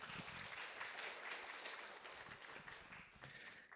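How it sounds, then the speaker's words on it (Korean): Applause from a seminar audience welcoming an accountant lecturer to a real estate tax strategy session, a steady wash of clapping heard faintly and at a distance for a few seconds. "강우석 강사님을 큰 박수로 맞이해 주시기 바랍니다"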